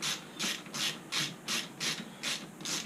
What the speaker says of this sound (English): Just tighten it down.